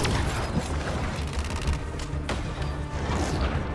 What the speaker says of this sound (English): He tried to hit me with a tank just now.